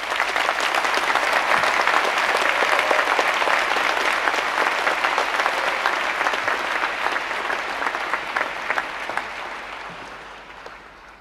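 Sustained applause from a large audience at an Imperial College graduation ceremony, honouring the engineering graduates; dense, even clapping that holds steady and then slowly fades toward the end.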